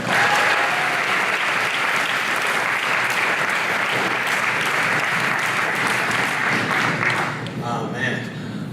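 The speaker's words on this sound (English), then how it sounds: "Let's give a big round of applause for Mr. Hunter Prey." Sustained, dense applause from a graduation audience welcomes a speaker, steady and loud for several seconds before tapering off at the end, with faint voices underneath.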